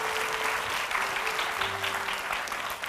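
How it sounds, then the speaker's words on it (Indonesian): Audience applause, a dense steady clapping from a crowd that holds at an even level throughout, with a faint hum running underneath. "Tepuk tangan dulu untuk Rashid."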